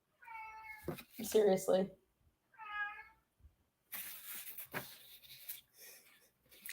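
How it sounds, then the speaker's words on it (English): Cat meowing indoors, two clear drawn-out meows near the start and a third around three seconds, followed by someone talking with background noise. "Who sent me the cat?"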